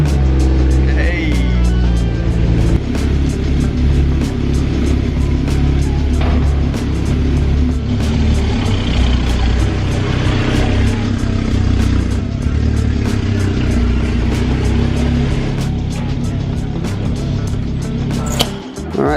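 A 2022 Lotus Emira sports car engine runs loudly and steadily throughout, its deep rumble dense and continuous, with some clatter and a brief burst near the end.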